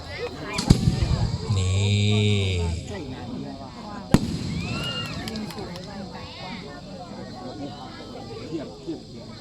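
Fireworks go off at a night celebration, with loud bangs, crackles and whistling rockets mixed with the fizz of the launches, while people talk over them throughout.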